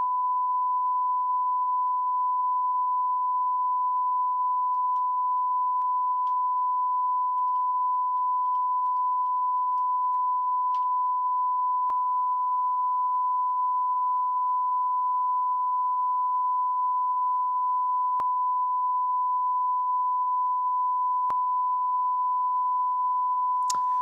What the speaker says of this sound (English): Oh my god, the beeping.